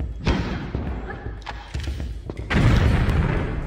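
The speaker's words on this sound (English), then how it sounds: "I'll try using the grenade launcher here" Grenade launcher blasts in Tomb Raider 3: several deep booming thuds at irregular intervals, followed by a louder, rumbling explosion that lingers to the end.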